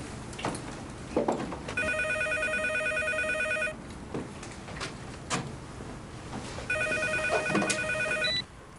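A telephone rings in two long electronic bursts separated by a pause, with faint thumps and background sounds, nobody picking up.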